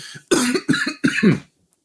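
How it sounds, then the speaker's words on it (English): Three quick, raspy coughs in a row from one person, close by, then silence. "As I cough."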